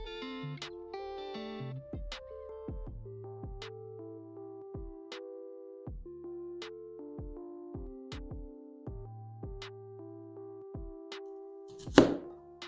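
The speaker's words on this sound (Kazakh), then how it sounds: "бүйтіп қиғаштап тураймыз" A knife cuts vegetables diagonally for a quick five-minute salad, steady sharp chops landing one after another against the board, clear and close, with melodic background music underneath.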